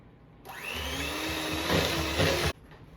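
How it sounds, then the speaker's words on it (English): An electric hand mixer whirs at high speed for about two seconds while beating Peter Pan peanut butter into a cookie dough, with a steady motor whine that shifts slightly in pitch as the batter thickens, then cuts off abruptly. "So now we're going to beat in the peanut butter."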